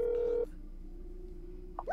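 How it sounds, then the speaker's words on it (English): Rotary phone dial in the horror game That's Not My Neighbour, a steady whirring tone for about half a second, then a quiet hum and a brief clicking return near the end, with no talking. "By the way, rotary phone."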